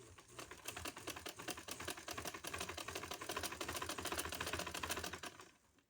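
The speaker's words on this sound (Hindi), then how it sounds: "अब मैं शलवार की तरफ कपड़े को सिलाई दूंगी।" A sewing machine runs steadily stitching salwar fabric, a fast even mechanical clatter that holds for several seconds at close range and then slows and stops.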